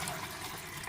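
Soaked beans being drained, the soaking water pouring out in a steady broadband rush of splashing and trickling, close and fairly faint, with no talk.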